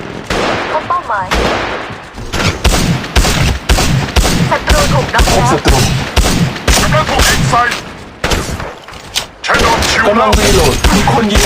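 Loud, rapid gunfire bursts from Apex Legends Mobile, played as Bloodhound, fire in repeated volleys with short gaps between them, dense and close throughout.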